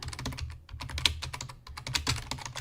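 Typing on a computer keyboard, a close run of quick clicking keystrokes with a brief pause midway, over a low steady hum.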